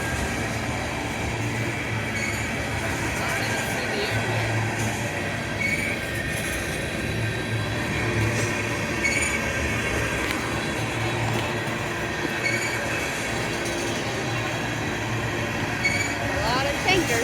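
A long CSX freight train of tanker cars rolls past nearby, with a continuous heavy rumble, clacking wheels and high squealing from the rails. People talk intermittently over it.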